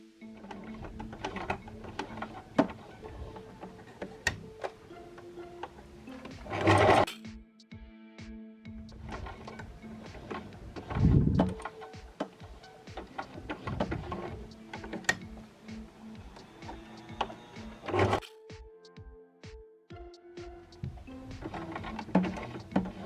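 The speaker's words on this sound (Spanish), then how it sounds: "doblar y seguir cosiendo." Domestic sewing machine stitching fabric around a 90-degree corner, steady mechanical needle chatter broken by brief pauses where the fabric is turned, then stitching resumes; close and clear with no talk.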